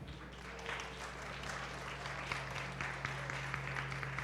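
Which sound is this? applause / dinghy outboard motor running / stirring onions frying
applause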